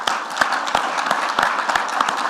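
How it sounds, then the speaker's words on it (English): Symposium audience applauding the GCV team in a conference hall, a steady wash of many hands clapping with sharp individual claps poking through, close and fairly loud throughout. "Can we give a round of applause to the GCV team?"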